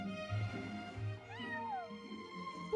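Cat Sir Pouncelot in Genshin Impact, a few close, clear meows with rising and falling pitch, set over a soft musical background.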